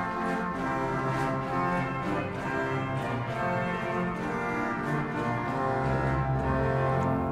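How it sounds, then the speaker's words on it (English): The 8-foot trumpet stop of the Hinsz organ in the Bovenkerk, Kampen, Netherlands, plays a dense, brassy, reedy line, loud and continuous, with shifting notes filling the church and no talking. "The trumpet 8-foot."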